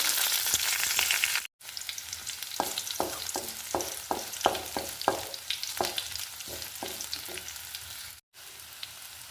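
Mustard seeds, curry leaves, chopped shallots and dried red chillies tempered in hot oil for a yam and cowpea erissery, crackling and popping in sharp bursts over a steady sizzle, close up with two brief breaks.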